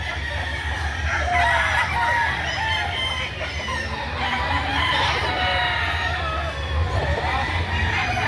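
Roosters crow and chickens cluck at a poultry market in Lipa City, Batangas, the crowing repeating over a constant busy crowd murmur with voices in the background.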